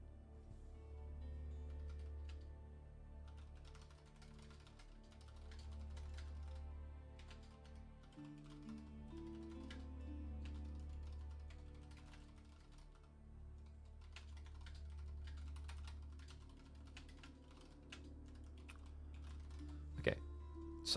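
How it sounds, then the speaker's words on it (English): Soft, rapid clicks of typing on a computer keyboard tap along close and quiet under a low steady hum, in short bursts with brief pauses. "Sorry, just typing something out."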